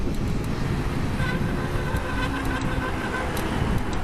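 Busy road traffic with lines of cars, scooters and bicycles, heard from a bike tour route in Aquitaine: a loud, continuous roar of passing engines and tyres close by, with no talk.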